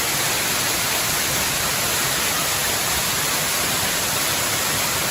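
The Rani Duduma waterfall at Nandapur roars as a dense, even broadband rush, steady and loud for the whole stretch with no other sounds over it.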